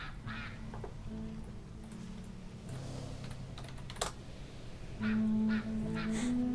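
Keyboard clicks and typing patter run throughout, with a short burst of video-game duck quacks near the end over a low background hum.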